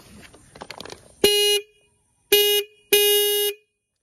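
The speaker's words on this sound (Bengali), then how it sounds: "তোমাদের একবার হর্নটা একবার শুনিয়ে দিচ্ছি।" Horn of a 2025 Triumph Scrambler 400XC motorcycle sounding three loud, steady toots, the first and last longer, after a moment of brief handling noise.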